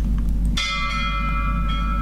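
A bell in the video game Layers of Fear strikes once and rings on with a sustained, resonant metallic tone over a low steady hum.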